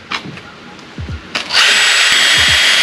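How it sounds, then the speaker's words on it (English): A power drill drills holes for a kayak trolling motor mount, starting up and whining steadily after a few faint clicks and light handling sounds, running loud and close. "Now I'm going to drill out all the holes for that, using a smaller bit first."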